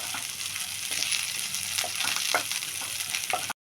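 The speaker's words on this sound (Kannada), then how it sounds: "ಹಸಿಮೆಣಸಿನ್ಕಾಯಿ, ಕರಿಬೇವು ಸೊಪ್ಪು ಹಾಕಿ ಇವಾಗ ಈ ಥರ ಫ್ರೈ ಮಾಡ್ಕೋಬೇಕು" Green chillies and curry leaves fry in hot oil in a pan for a chilkari greens palya. A steady, close sizzle runs throughout, with a few stirring scrapes near the end and no voices.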